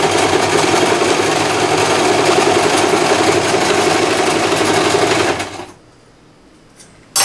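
A sewing machine stitches a rag doll's head slowly and steadily, humming loud and close for about five seconds before stopping abruptly, leaving near silence with a faint click at the end.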